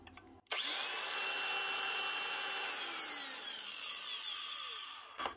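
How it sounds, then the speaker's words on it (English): A 2017 Hitachi G18DL corded angle grinder, freshly repaired with new brushes, starts abruptly and runs loud and steady with a high whining motor tone, then spins down slightly near the end. "Hitachi corded grinder."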